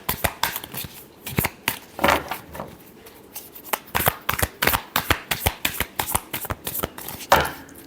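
Tarot cards are shuffled by hand in a quick run of crisp riffling snaps, close and fairly loud, with no talk over them.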